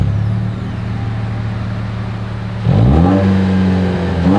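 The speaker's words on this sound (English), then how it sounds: "As always, here is that exhaust clip." A 2024 Toyota Tacoma SR5's exhaust idles with a steady low drone, then the engine is revved sharply and holds at a louder, higher pitch, close and alone.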